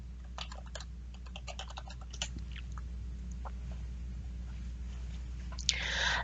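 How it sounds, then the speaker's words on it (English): A search term is tapped out on a computer keyboard in quick, close clusters of clicks over a low steady hum, ending with a brief louder rustle. "Go to the search box at the very top and then type in your search term"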